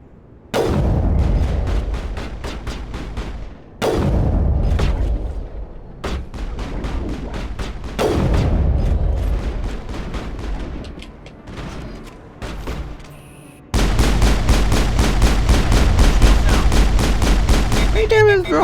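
Rocket fire and explosions in the video game Mass Effect: several loud, booming blasts that each roll off into a decaying rumble, ending in a sustained burst of heavy firing.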